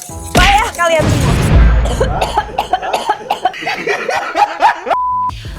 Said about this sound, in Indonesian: Masa kayak gitu aja batuk.